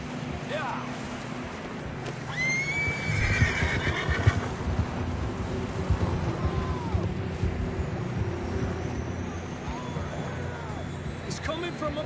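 Horses in the Red Dead Redemption 2 video game whinny and neigh over a steady bed of hoofbeats and outdoor wind, with people talking throughout and a louder stretch of calls in the middle.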